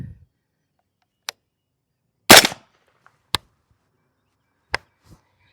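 Sharp gunshots from a 300 Blackout rifle with a 10.5-inch 1-in-8 twist barrel firing Black Hills 198 grain Dual Performance rounds, several single cracks spaced a second or more apart, one louder and longer blast in the middle, no voices.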